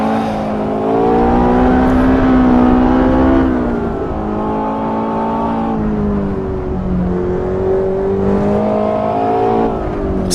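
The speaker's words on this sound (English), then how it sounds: "Still got that flat plain crank whop that you expect to hear in a Ferrari" Ferrari 488 GTB engine in the Assetto Corsa driving game on LA canyon roads, a loud sustained engine drone rising and falling in pitch through several rev sweeps and gear changes, with no talking.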